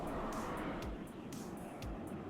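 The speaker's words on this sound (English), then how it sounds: "HE bomber coming in, taking out that vehicle there." An HE bomber flies in over the battlefield in the strategy game WARNO. Its engine makes a steady, low, broad roar that sits under faint ticking interface clicks and a few soft thumps.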